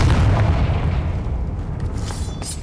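A Confringo curse explodes in Hogwarts Legacy, a loud, close, booming blast that rumbles heavily at first and then decays over a couple of seconds, with no talk.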